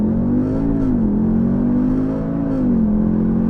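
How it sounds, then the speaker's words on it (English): A 2023 Audi TT with a dual-clutch gearbox launching from a stop under launch control: a loud, steady engine drone climbing in pitch, dipping briefly at a gear change, then rising again, with no talking. "It just lets you dump the clutches for a launch control."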